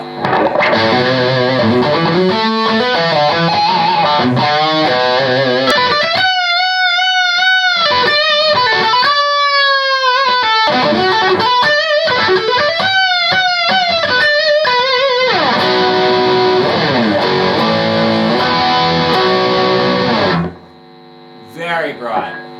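Electric guitar through a solid-state digital distortion plays loud sustained chords and bending lead lines, buzzing and bright, ending abruptly into quieter hum.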